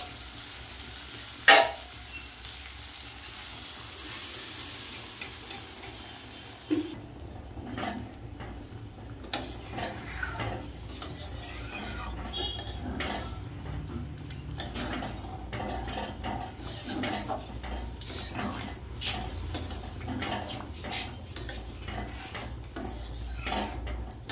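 Boiled peas tipped into a pan of sizzling spiced potatoes for matar paneer ghugni, followed by repeated metal spoon scrapes and clinks against the pan over a constant close sizzle.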